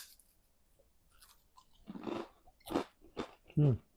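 Several crisp crunching bites of fried seaweed chips made with thin rice paper, loud and close, coming in quick bursts.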